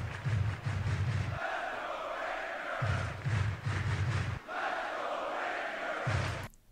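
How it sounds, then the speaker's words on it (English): A large stadium crowd chants in rhythmic bursts, loud and continuous, with repeated pulsing calls rising and falling, a crowd sound mod for the Out of the Park Baseball video game. "here's a kind of a chanting call"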